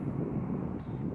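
Wind blowing outdoors on a dune, a soft steady rush buffeting the microphone, faint and continuous with no voices.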